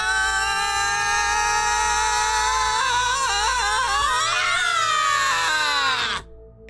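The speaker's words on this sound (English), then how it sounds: "He ducks down and starts screaming." A high, sustained animated scream from Gotenks, the Dragon Ball character, rising and wavering in pitch for about six seconds with dense harmonics, loud and close, then cutting off abruptly.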